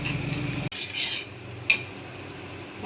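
Steady bubbling simmer of a thick potato curry in a pot, with a brief clink of a utensil partway through.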